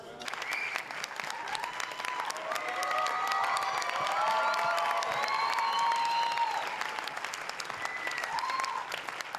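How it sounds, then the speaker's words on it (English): A large Sydney crowd claps and cheers continuously, a dense, fairly distant wash of applause with whoops rising and falling throughout. "That's a much bigger cheer than they gave me."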